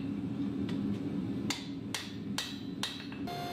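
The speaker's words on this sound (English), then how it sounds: "For all of the forge welding, I just used the hand hammer." Hand hammer forge welding a Damascus steel billet: several sharp, ringing metal blows land at irregular intervals over a steady roar of the forge in the background.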